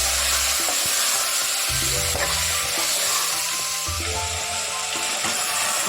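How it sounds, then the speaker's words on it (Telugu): Mixed vegetables sizzle steadily in hot oil while being fried for a vegetable pulav. The crackle is loud and close, and a few stirring scrapes and clanks sound against the pan. "దీన్ని బాగా కొంచెం 5 మినిట్స్ ఆయిల్లో ఫ్రై చేసుకోవాలి."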